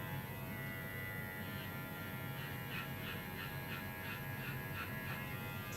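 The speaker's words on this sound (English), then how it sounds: "See, it's just a clipper." An electric pet grooming clipper buzzes continuously at a steady pitch, a quiet close-up mechanical hum with faint intermittent rasping as it works, no voices heard.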